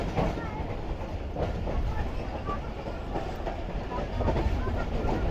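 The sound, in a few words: Rehman Baba Express train running on tracks through mountains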